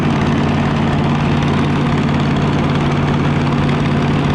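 A tractor engine drones steadily and loudly nearby while pulling oat harvest equipment through a field at a museum harvest day, a constant low throbbing hum with no breaks.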